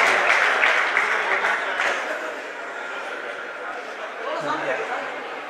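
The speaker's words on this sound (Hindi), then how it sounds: "जोरदार तालियां" Crowd applause at a Pakistani public school event in Hyderabad, Sindh, loud at first and gradually thinning, with chatter and a voice running underneath as it fades.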